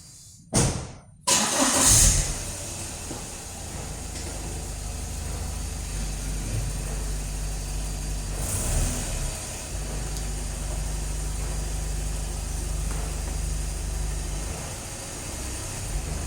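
A low-profile car starts up and its engine idles and revs gently as it creeps up onto a ramp fitted with a paper extension, a steady close mid-pitched hum running throughout with a slight swell partway through.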